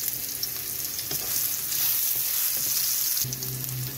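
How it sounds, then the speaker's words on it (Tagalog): Chopped ginger sautés in a hot frying pan, giving a steady close sizzle with scraping and stirring clatter from a utensil against the pan, and a lower rumble near the end. "So, yung luya muna ang ating unang igigisa"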